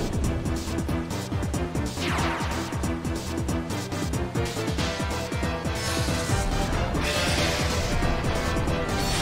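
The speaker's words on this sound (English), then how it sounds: "The red corner makes the first attack. A smashing blow." Smashing attack blow in a Pokémon Battle Revolution battle, a loud crash against a busy, continuous music score, with sharp hits recurring throughout.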